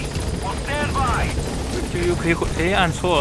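A helicopter in the video game Metal Gear Solid V gives a steady close rotor thrum and whine, with game sound effects and a person talking over it.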